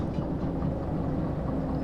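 A freight train rolls along the rails in the railway simulator game Derail Valley, giving off a steady, loud, close rumble with faint rhythmic clatter that continues throughout.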